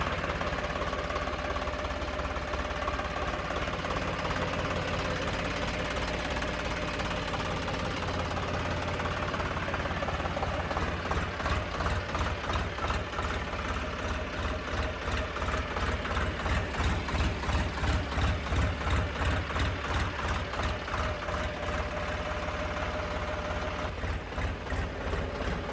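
A 2022 Sonalika Tiger GT26 tractor engine idles close by with a steady, loud diesel chug and a rhythmic knocking pulse that continues unbroken throughout.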